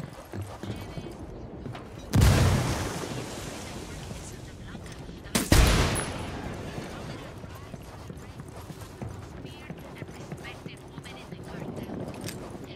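A grenade blast and a second explosion burst out amid scattered gunfire in Ghost Recon Wildlands, with two loud, sharp booms standing above a steady rumble of combat and faint voices.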